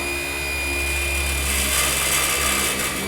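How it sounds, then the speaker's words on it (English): A power drill drives self-drilling wafer head screws through a metal angle into a ceiling's primary channel, giving a continuous steady whine that holds at one loud level throughout. "We drill through the metal angle into the primary channel"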